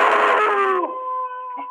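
Wolves howling on a live exhibit camera, long sustained tonal howls with several voices overlapping, then a single clear howl holding steady and fairly loud with no talk.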